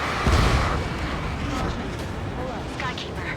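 A missile explosion in an air combat game bursts as a heavy boom near the start, followed by a lingering rumble with crackling flickers and faint chatter underneath.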